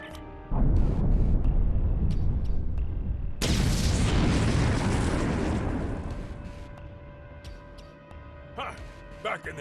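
A rock being blasted in Star Trek Online: after a low rumble, a loud explosion erupts with a sudden broadband boom, then a long decaying roar of debris that fades over several seconds, followed by faint clatter.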